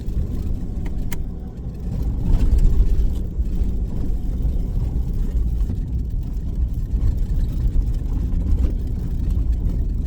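A lone four-wheel-drive vehicle rumbles along the Canning Stock Route, a continuous low engine and road drone heard close and steady, with occasional bumps and rattles and no talk.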